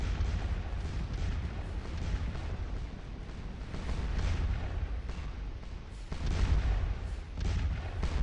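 Continuous rumbling artillery fire from the Scourge of War Remastered battle game, a dense roar of overlapping cannon blasts that swells louder near the end, with no talking.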